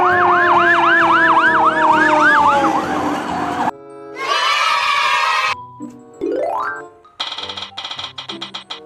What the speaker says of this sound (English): Water pump fire truck.